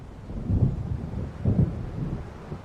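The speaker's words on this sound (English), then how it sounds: "It seems there's a storm coming." Thunderstorm in Alan Wake Remastered, two deep distant rumbles of thunder rolling low and soft over a steady bed of wind and rain.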